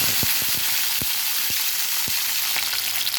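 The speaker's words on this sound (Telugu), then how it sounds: "అదే నూనెలో పచ్చిమిర్చి వేసుకుందాం ఫ్రెండ్స్" Green chillies fry in hot oil with a constant loud sizzle, broken by sharp pops and crackles every half second or so.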